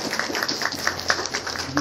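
An audience claps at an outdoor stone-laying ceremony and statue unveiling honouring Sudhansu Bala Hazra, India's first woman advocate. The applause is steady, with rhythmic, fairly close clapping and faint crowd murmur.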